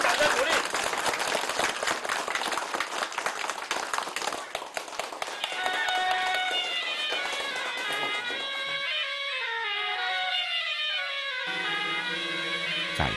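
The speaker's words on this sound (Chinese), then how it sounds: "我们掌声鼓励。" An audience at a village tea competition in Nanyan village applauds the winner, dense clapping for several seconds that then gives way to music and a narrating voice.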